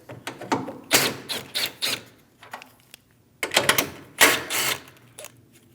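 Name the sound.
removing a 10mm bolt and nut from a car AC condenser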